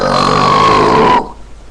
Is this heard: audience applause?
no